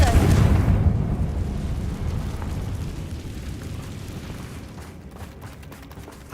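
A Confringo blasting curse explodes in the Hogwarts Legacy video game: a loud burst at the start, then a rumbling roar that slowly fades over several seconds, with no talking.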